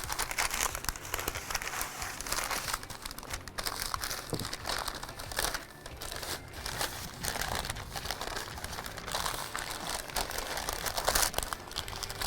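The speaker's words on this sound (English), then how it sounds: "we are going to wrap this, and what I want to do is I want to wrap it tight" Continuous crinkling and crumpling of wrapping material pulled tightly around a smoked tri-tip, dense rustling close up for the whole stretch, no speech.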